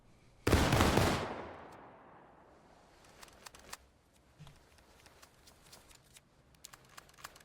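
A rear-rank musket volley in the video game War of Rights bursts out as one loud, dense crackle of many near-simultaneous shots, echoing away over a few seconds before scattered clicks and rattles of reloading.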